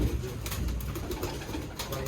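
Pigeons coo repeatedly nearby, soft throaty calls layered over a busy background murmur.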